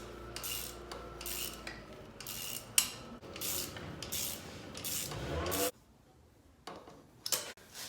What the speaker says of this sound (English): Now I'm just pretty much gonna take them down with just a regular ratchet until they're almost seated.